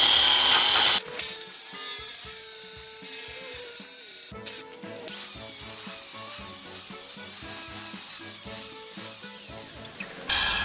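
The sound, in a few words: power tool grinding rust off a Mazda Roadster side sill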